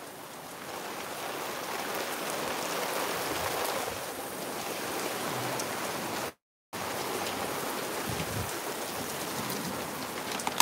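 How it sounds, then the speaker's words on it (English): Steady rain falls all around, a dense and even hiss of drops that stays loud throughout the clip, broken only by a brief cut of silence. "Like I hear the rain around me."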